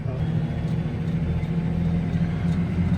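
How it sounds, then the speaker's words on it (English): A steady low Case Puma tractor engine drone hums inside the cab, with a faint transmission whine riding on top, continuous and even throughout. "You can hear a little whine of the transmission now, but it's very, very quiet."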